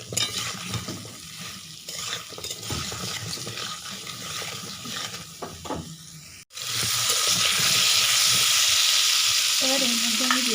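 Mixed vegetables frying in a pan with salt: a loud, steady sizzle with stirring scrapes, which jumps to a fuller, constant hiss partway through.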